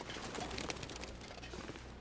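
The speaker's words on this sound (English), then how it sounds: "There's those birds" Birds call in the survival video game The Long Dark, soft cooing and chirps scattered over a quiet outdoor ambience, faint and with no talking.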